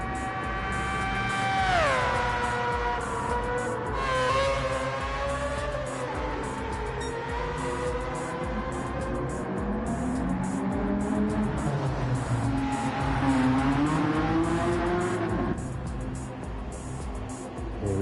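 Race cars in Gran Turismo 7 roar throughout, with engine tones sweeping up and down through gear changes and passes, loud and continuous over a steady background.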